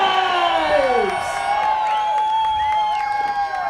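Arena crowd at a wrestling event cheering for hometown wrestler Key Vibez, loud sustained roar and whoops with shrill tones over it, heard up close alongside announcer-style talk.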